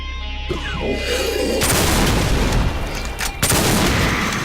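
Brutal Doom gunfire in a PC first-person shooter, with loud, close blasts that open into a dense sustained roar of shots and explosions, then a second sharp burst near the end.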